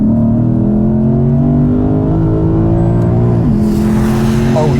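A BMW M engine pulls hard and loud through the gears in a sports car, its note climbing steadily with a brief dip around a shift, close up and steady throughout with no talking.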